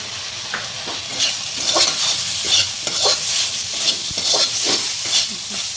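Egg curry masala sizzles and fries in a pan while being stirred, with repeated scraping strokes over a steady hiss; the sound is close and moderately loud, with no talking.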